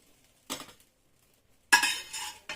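Utensil clatter in a pan as a lightly pre-fried egg goes into mustard masala for egg bhapa, a short clink near 0.5 s, then a louder scraping burst with a final knock, close and clear.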